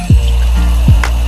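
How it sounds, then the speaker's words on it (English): Tap water runs steadily into a container being filled for laundry inside an RV, a continuous close rush with a couple of soft low thumps. "the first thing you're supposed to do is fill this up with some water"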